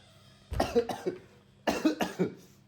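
Two bursts of harsh, close coughing, each a quick series of three or four coughs separated by a short pause.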